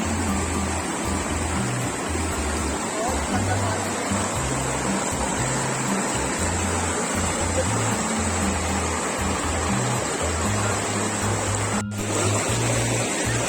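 A cold mountain stream and waterfall in Pahalgam roar with a constant, dense rush of water that stays loud and even, with a brief dropout near the end.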